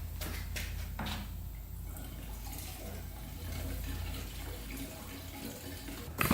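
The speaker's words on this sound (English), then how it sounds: "Bunch of bad gas. See, it's all draining there." Old, bad gasoline drains from a Honda CR80 dirt bike in a steady, close trickling pour, with low rumbling background noise throughout.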